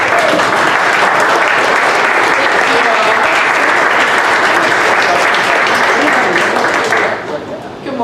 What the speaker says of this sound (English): give her a round of applause and welcome her to the stage.